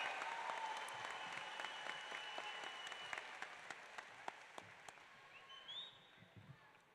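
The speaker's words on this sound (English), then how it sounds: "Let's give the class of 2022 another rousing applause" Graduation audience at a high school ceremony applauding the class of 2022, a dense sustained wash of clapping that thins toward the end into scattered individual claps, fairly distant in a large venue.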